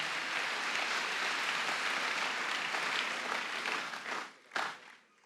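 A church congregation applauds loudly and steadily, a dense wash of clapping that holds for several seconds before thinning out and briefly surging again near the end.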